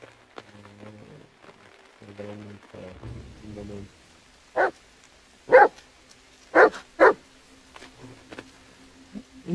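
A dog barks in the horror video game The Medium: after a low voice at the start, four sharp, separate barks come at irregular intervals, moderately close against a quiet background.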